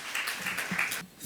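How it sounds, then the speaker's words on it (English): Steady applause from an audience welcoming the Deputy Mayor of London for Business on stage, a dense continuous wash of clapping heard from a distance that eases off near the end. "Please join me in welcoming, with a huge round of applause"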